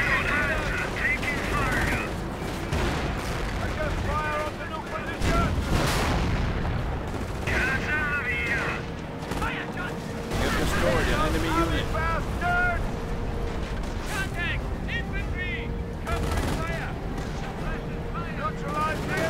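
Gunfire from the World War II strategy video game Company of Heroes: rapid machine-gun bursts and rifle shots crackle continuously over a dense battle din, with in-game unit voices shouting now and then.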